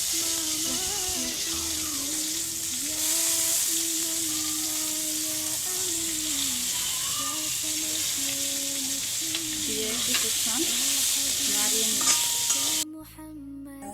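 Onions frying with garam masala in a pan, a steady sizzle with stirring scrapes running continuously under a tonal background, then cutting off abruptly near the end.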